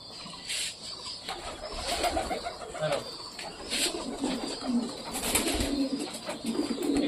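Domestic fancy pigeons kept at home coo softly in low, rolling calls, a few overlapping bursts at moderate distance against faint background noise.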